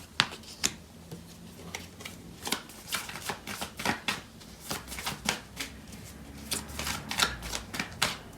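A deck of tarot cards is shuffled by hand close up, a series of sharp riffles and slaps in irregular bursts over several seconds, with no talking.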